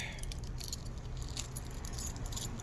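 Keys jangle and clink steadily in a light metallic rattle, close by and fairly quiet, over a low background hum.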